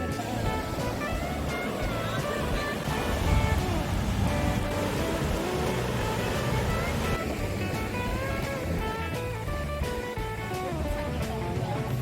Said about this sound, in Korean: 계곡의 그 물소리가 너무 좋습니다.